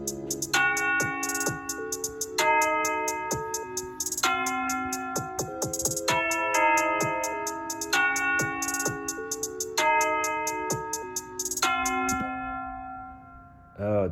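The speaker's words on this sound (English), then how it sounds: "we're gonna keep in the church bell" A church bell sample loops through a hip-hop beat, its ringing tones struck in a steady repeating pattern over bass and drums, loud and continuous throughout with no talking.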